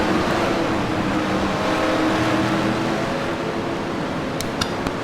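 Race trucks roaring around the Eldora dirt track: a continuous, loud engine drone with overlapping tones from several vehicles at a distance, steady throughout, with no talking.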